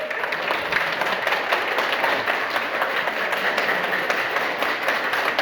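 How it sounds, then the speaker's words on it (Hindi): An audience claps loudly in sustained, dense applause at an event, a steady wash of many hands lasting throughout with no talk over it. "आप लोग अपने लिए जोरदार ताली बजाइए"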